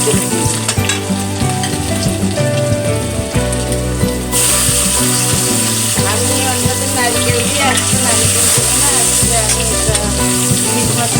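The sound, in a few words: garlic frying in oil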